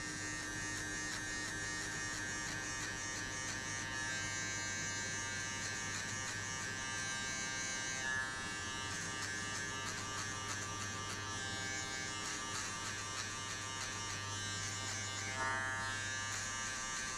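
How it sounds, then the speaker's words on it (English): Electric hair clipper buzzing steadily while cutting short sides and back in a barber session, a close continuous motor hum with slight shifts in pitch as the blade moves through hair. "I'll flick the clipper out like that way"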